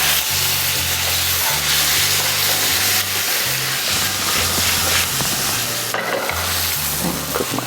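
A thick chunk of meat fries in a hot pan, a steady loud sizzle and hiss that runs without a break, with faint scraping and low knocks from the cookware underneath.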